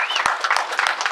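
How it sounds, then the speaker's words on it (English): A brief burst of crowd applause at a business seminar for Platinum 600 members, steady clapping close and loud throughout the short moment. "Let's give them a big round of applause."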